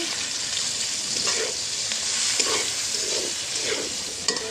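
Steady hiss of onions frying in hot oil over a clay stove, with occasional stirring scrapes over the sizzle, close by and continuous.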